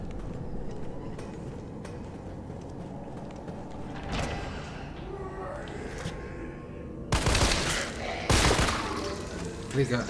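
Gunshots in the video game Resident Evil 3 Remake, a few scattered sharp reports early on and then two loud, close blasts near the end over a low game ambience.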